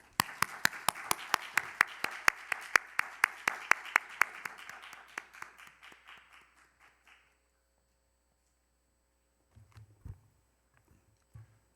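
Audience applause for a contestant at a youth speech competition, with dense clapping that thins out and fades over several seconds before near silence and a few faint soft noises at the end.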